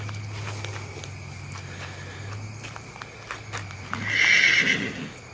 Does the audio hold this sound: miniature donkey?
yes